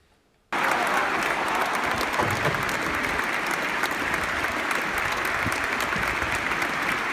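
Steady applause from an audience during a live broadcast, a dense continuous clatter of many hands that starts abruptly after a brief quiet moment and holds at an even loudness with no talk.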